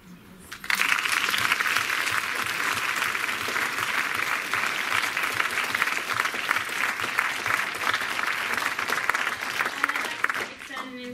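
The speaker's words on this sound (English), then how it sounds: "another round of applause" Audience applause after a lecture and question-and-answer session, dense sustained clapping that starts abruptly and continues loud and steady before tapering off near the end, with no one speaking over it.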